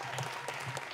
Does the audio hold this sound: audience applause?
yes